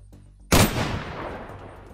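A single loud, close gunshot from the Unturned Unturnov mod video game cracks out abruptly, then a long echoing tail fades over about a second and a half, with quiet background noise before it.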